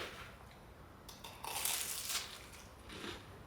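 Someone bites into a panko-crumbed chicken samosa, giving a crisp close-up crunch that swells and fades over a few seconds, with no talking.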